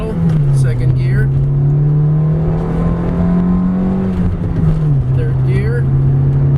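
1993 Acura Integra LS Special Edition accelerating in second gear at about half to three-quarter throttle, a steady, loud engine drone climbing smoothly before easing off, heard from inside the cabin throughout.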